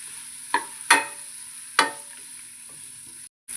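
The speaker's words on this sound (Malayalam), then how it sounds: "നന്നായിട്ടൊന്ന് വഴറ്റിയെടുക്കണം. സവാളയൊക്കെ നല്ല" Sliced onions sauté in oil in a pan for a Kerala onion curry; three sharp spatula scrapes stand out over a faint, even sizzle, then it quiets before a short cut-off.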